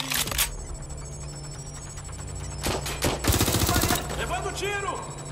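Bursts of gunfire in the video game Watch Dogs Legion, rapid automatic volleys over steady game music and ambience, with someone talking over the shooting.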